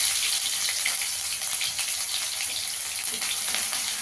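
Grated ginger fries in hot oil with fennel seeds, giving a steady, even sizzle and crackle that holds at a constant level for the whole stretch.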